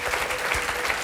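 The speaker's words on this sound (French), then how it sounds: "on l'applaudit" Studio audience on a French television talk show clapping, a dense steady applause heard alone for about a second.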